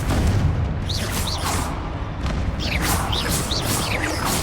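Continuous roar of blasting-spell explosions and magical combat in Hogwarts Legacy, dense booming bursts with whooshing effects layered throughout, loud and sustained with no clear gaps.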